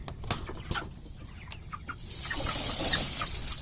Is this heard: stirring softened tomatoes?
no